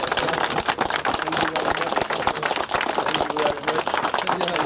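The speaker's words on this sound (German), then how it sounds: "das ist ein Applaus" An audience aboard a special train journey through Scandinavia claps steadily, with dense, continuous applause and voices mixed in throughout.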